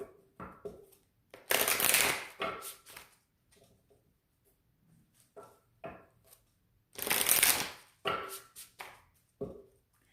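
Oracle cards being shuffled for a spiritual reading, coming as close, crisp riffling bursts with short pauses between them and no talking.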